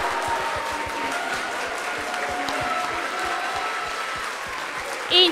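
A crowd at a programming contest closing ceremony breaks into steady applause for a team, with continuous clapping at an even level and a short bump of noise near the end.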